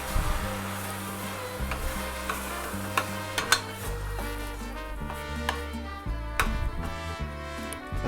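Crushed, food-processed tomatoes are stirred into a pot of chili, with a spoon scraping and clacking against the pot over a soft sizzle, close and continuous.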